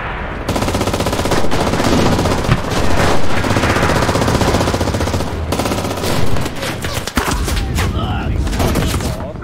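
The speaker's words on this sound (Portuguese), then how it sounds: "Tô tomando esses tiros" Dense, continuous gunfire from the World War II shooter Enlisted, with rapid machine-gun bursts and scattered shots filling the whole stretch at high volume, while voices talk in the mix.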